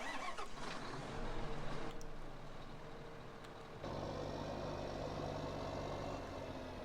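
John Deere tractor engine in Farming Simulator 15, a steady droning rumble with a rough low-pitched texture that shifts to a slightly louder, fuller tone partway through and keeps running.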